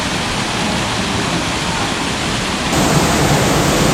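A waterfall on the slopes of Mount Merbabu roars close and loud as a constant broadband rush, swelling slightly stronger toward the end.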